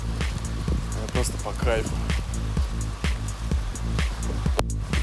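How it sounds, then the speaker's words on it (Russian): Heavy rain falls at night as a steady, even hiss throughout, partly masked by someone talking close over it. "Хуярит дождь."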